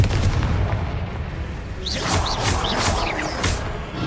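Confringo spell blasts in a video game, a dense rumbling boom followed by several sharp crackling bursts and whooshes in quick succession, loud and close.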